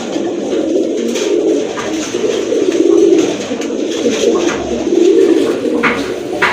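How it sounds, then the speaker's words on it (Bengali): Domestic pigeons cooing in a loft, low rolling coos repeating in soft waves, close and fairly loud, with no speech. "ওই যে ওইটা হচ্ছে মাদি কবুতর"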